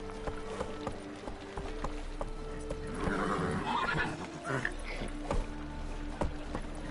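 Roach, a horse in The Witcher 3, whinnies loudly partway through while hooves clip-clop in a steady galloping rhythm, and a person talks over the game sounds.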